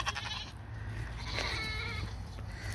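Goats bleating in a farm pen, several loud close calls overlapping against low rumbling background noise.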